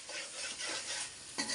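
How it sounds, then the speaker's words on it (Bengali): Turnip pieces fry in oil with spices as they are stirred in a pan, a close, dense sizzling hiss with soft swishes of stirring and a brief clatter near the end. "এখন আমি কি দেব, ওর সাথে সাথে শালগম সুন্দর করে কষাই নেব"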